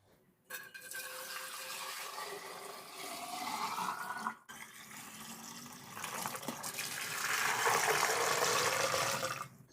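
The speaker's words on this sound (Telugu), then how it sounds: "ఒక బకెట్ తీసుకోండి హాట్ వాటర్ పోయండి" Hot water pours steadily into a bucket for geyser cleaning, a continuous splashing gush that briefly pauses around four seconds, then resumes with a fuller, rising filling sound.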